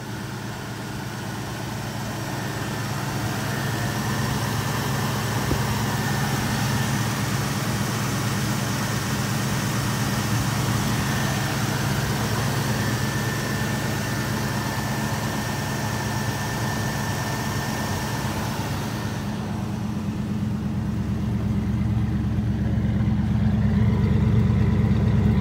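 The engine of a 1970 Ford Mustang Convertible idles with a steady, low, rumbling drone that holds unbroken for about twenty seconds and deepens slightly near the end, with no talking over it.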